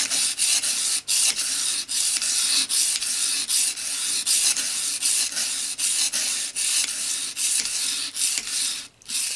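A knife blade drawn across the wet stone of an EdgePro Apex sharpener, making loud, close rasping strokes in a steady repeated rhythm with short pauses between passes.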